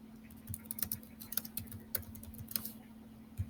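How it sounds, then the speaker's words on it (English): Keys clatter in irregular bursts of taps as someone types an essay on a computer keyboard, close and fairly quiet over a steady low hum. "So I'll have to type it."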